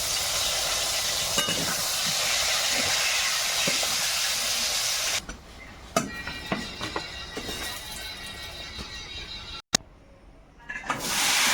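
Fresh eggplant cut into round slices frying in a pan, a steady loud hiss and sizzle that drops away midway, followed by quieter crackles and stirring clatter.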